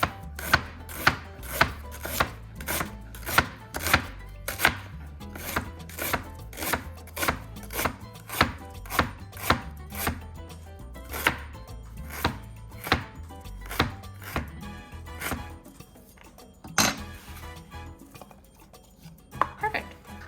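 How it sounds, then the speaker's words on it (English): A knife thinly slices ginger on a cutting board in dozens of crisp, evenly spaced chops, close and clear, with the pace slowing near the end. "So you want to thinly slice the ginger."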